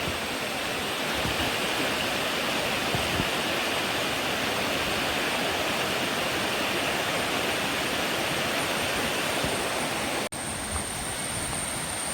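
Madatharuvi waterfall in Ranni roars with a steady, dense rush of falling water, loud and continuous throughout with no voices.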